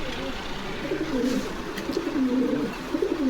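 Pigeons coo at a pigeon farm in Bogura where running pigeons are kept in master pairs, giving repeated low rolling coos that overlap in a steady, close chorus with faint background noise.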